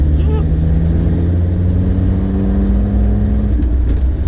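A remapped Land Rover Defender Td5 diesel drones loudly from inside the cabin as it accelerates, the engine note climbing steadily before shifting near the end, with a voice briefly speaking over it.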